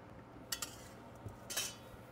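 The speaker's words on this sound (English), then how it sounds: "Put them in a bowl." Freshly boiled spätzle dropped into a bowl in a kitchen, with a few light clinks of utensils against the dish in two brief bursts, close and fairly quiet.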